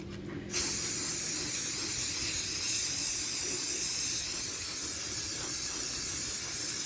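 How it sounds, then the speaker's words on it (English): A spray paint can lets out a sustained, even hiss while painting a car, starting abruptly and continuing steadily at close range, loud and uninterrupted. "And you're just going to want to give it a nice little spray."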